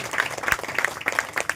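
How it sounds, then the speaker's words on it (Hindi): Scattered hand claps from a small group at a prayer meeting, brisk and uneven, with faint voices underneath. "कौन जोरदार तालियां बजाएंगे"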